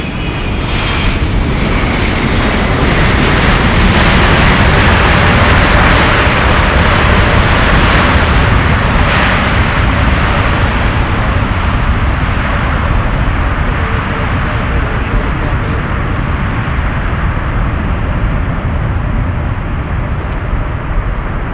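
Airplane engines roar during a takeoff run on runway 25 left, a loud continuous broadband rumble and hiss that holds steady for over twenty seconds, with no voices.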